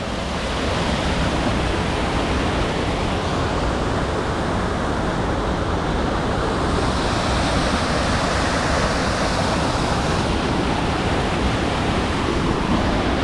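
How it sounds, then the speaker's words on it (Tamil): A forest waterfall near a living root bridge in India pours down in a loud, steady, roaring rush of water, unbroken throughout. "ஃபுல்லாக வந்து தண்ணி இங்கேருந்து ஊற்றி வருதுல்ல"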